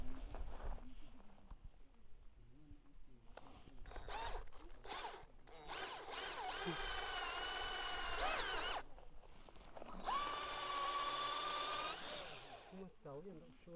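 A drill runs on a stone-crushing construction site where cart machinery is being serviced, with a few short starts followed by two longer, loud whining bursts separated by a brief gap.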